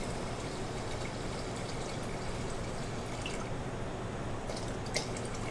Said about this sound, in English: So you're just going to pour in your rice.